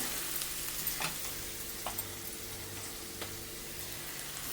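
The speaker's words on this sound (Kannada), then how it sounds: "ಇವಾಗ ಇದಕ್ಕೆ ಸ್ವಲ್ಪ ಟೊಮೆಟೊ ಹಾಕ್ಕೊಂಡು ಫ್ರೈ ಮಾಡ್ಕೊಳೋದು" Tomatoes frying in a pan for a Navaratri puja dish, giving a steady soft sizzle with a few faint stirring clicks, close and alone with no voices.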